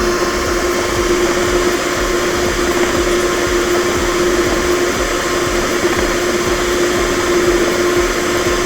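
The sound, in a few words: electric mixer beaters whipping egg whites into meringue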